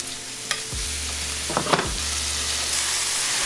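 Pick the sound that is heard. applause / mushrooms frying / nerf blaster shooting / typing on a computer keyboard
mushrooms frying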